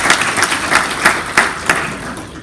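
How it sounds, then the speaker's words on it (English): Audience at a college-wide faculty meeting breaking into applause, a burst of clapping with distinct claps rising and fading over a couple of seconds. "I'm glad you clapped"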